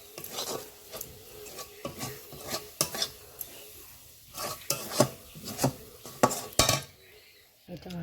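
Cooking mango pulp for aamsotto is stirred in a pan, giving repeated scraping and knocking strokes of a utensil against the pan, close and fairly loud, in an irregular rhythm with short pauses.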